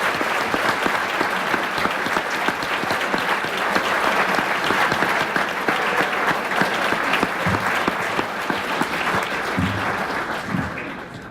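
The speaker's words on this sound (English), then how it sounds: "I just want to give us a final round of applause for everyone's accomplishments tonight." Sustained round of applause from the audience at a Heat athletic awards banquet, dense continuous clapping that stays loud for about ten seconds before easing slightly, with a few faint voices mixed in near the end.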